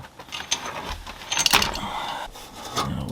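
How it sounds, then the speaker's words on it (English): A flathead screwdriver pries and works at a dryer vent fitting, making short metallic clicks and scrapes with a sharper clatter near the middle, heard close up with no talking. "got myself a flathead screwdriver. I'm going to take this thing off right here"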